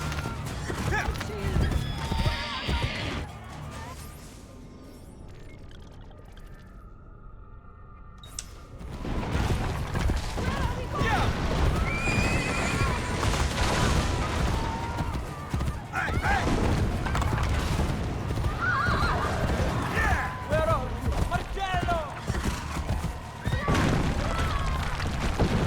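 A horse in Assassin's Creed: Brotherhood whinnies amid game sounds of hoofbeats, crashes and booms, with a quiet gap partway through before the clatter resumes, while players talk over the action.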